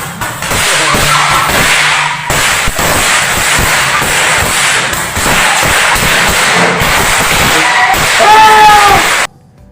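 Firecrackers set off for Eid celebrations at home pop and crackle in a dense, loud barrage, with whistling bursts near the end and voices mixed in under the noise.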